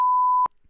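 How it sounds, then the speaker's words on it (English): A steady electronic censor beep, a pure mid-pitched tone held for just under half a second and cut off abruptly, loud and alone, followed by near silence. "I love this beep"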